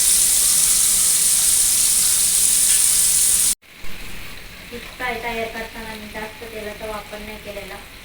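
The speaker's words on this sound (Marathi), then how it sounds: "फिश फ्राय इतक्यात फ्राय होऊन जातात एक साईडने पण दोन्ही साईडने चांगले फ्राय करून घ्यायचे" Fish shallow frying in a pan gives a loud, steady close sizzle for about three seconds; after a cut, quieter frying continues under a voice talking.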